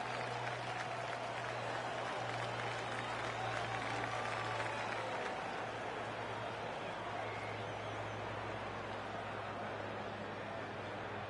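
A golf gallery in the PGA 2K25 video game applauds in a steady, sustained patter of clapping at moderate level, with a commentator's voice over it.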